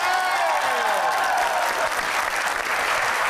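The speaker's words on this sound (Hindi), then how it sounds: "लाहौर कलंदर के तालियां बजाएं" Crowd applause from studio supporters of the Lahore Qalandars cricket team, a dense, steady wash of clapping lasting the whole stretch, with some voices and cheering mixed in.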